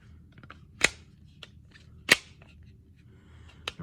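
A 12-round ETS magazine is slammed into a G43 pistol, giving sharp, close plastic-and-metal clacks: two strong hits about a second apart, then a lighter snap, with fainter clicks between.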